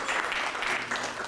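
Brief clapping from an audience thanking Ibu Sari at a panel on green energy jobs for young people, a short dense burst of applause with no voices over it.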